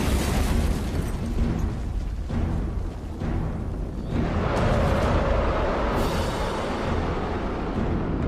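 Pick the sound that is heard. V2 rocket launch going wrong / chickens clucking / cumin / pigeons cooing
V2 rocket launch going wrong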